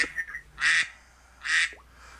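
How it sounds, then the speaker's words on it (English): A duck gives two loud, harsh quacks about a second apart, close by, with a faint call before them and no talk. "Eddie, let that duck out."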